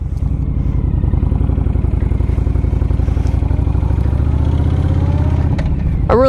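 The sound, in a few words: Honda VTX motorcycle riding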